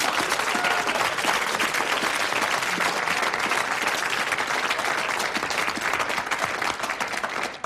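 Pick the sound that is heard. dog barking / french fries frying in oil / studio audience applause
studio audience applause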